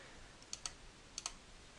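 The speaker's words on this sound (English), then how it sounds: "hit M on the keyboard" Computer keyboard keys are pressed in two quick pairs of light clicks about half a second apart, faint and close against a quiet background.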